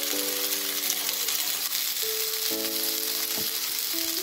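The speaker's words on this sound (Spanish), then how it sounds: "Esto que está sofrito, que está así sofrito" Garlic, onion and pepper frying in a pan as a sofrito base for paella, a steady close sizzle running throughout, with faint background music tones.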